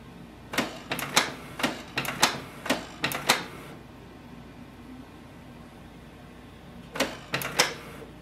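Canon PIXMA TS3725 inkjet printer running its automatic printhead cleaning cycle, giving bursts of sharp mechanical clicks and clacks in quick groups, a pause of near quiet, then another short clattering burst, close and moderately loud.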